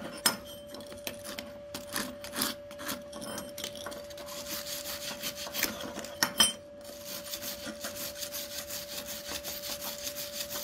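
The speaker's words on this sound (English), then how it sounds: "we're going to take our old stainless wire brush right here where y'all can see it" A stainless steel wire brush scrubs across a flux core weld bead, giving rapid rasping scratchy strokes in uneven bursts, close and moderately loud, with a steady hum behind it and no talk.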